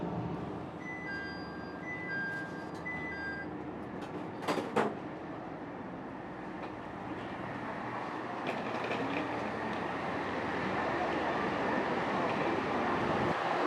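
The old JR Super Inaba train pulls into Okayama Station, a steady rumble that slowly builds, with brief chime tones early on and a couple of sharp knocks midway.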